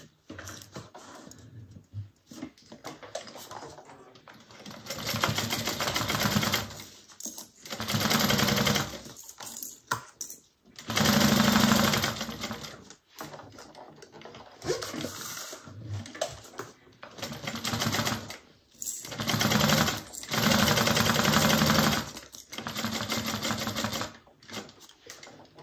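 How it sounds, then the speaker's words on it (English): Sewing machine basting around a bag's perimeter to attach an organizer pocket, running in repeated bursts of rapid mechanical chatter separated by short pauses, fairly quiet and close. "first I'm going to baste around the perimeter and get the organizer pocket attached"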